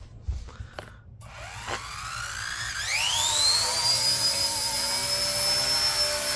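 Small 1/48-scale RC ERA Huey model helicopter spooling up and lifting cargo, its whine rising steeply in pitch then holding a steady high electric drone close by, with no talk.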